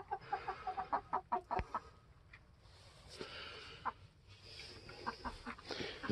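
A rooster clucks in a quick series of close, rhythmic calls, followed by scattered quieter clucks and rustling movement in a livestock yard.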